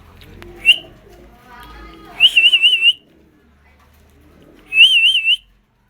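Coca pigeons inside their own cage give two bright, warbling whistle-like calls, each about half a second long, with a short chirp before them. Quiet background noise sits underneath.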